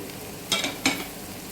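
Crushed ginger and whole garlic cloves frying in a pan, a steady close sizzle broken by two brief louder bursts as they hit the hot oil, with no voices.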